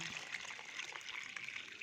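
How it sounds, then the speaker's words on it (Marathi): Water pours into a rose flower pot while repotting, a soft continuous trickle and dribble heard faintly and up close, with no voices. "आपल्या कुंडीत पाणी पूर्ण भरून कुंडी पाणी टाका"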